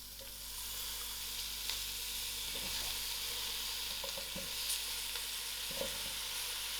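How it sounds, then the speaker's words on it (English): Carrots and potatoes fry in a pot for a chickpea soup, a constant broad sizzle filling the background with a few faint scrapes of stirring, fairly quiet and without talk. "I'll give this a nice mix and allow it to fry."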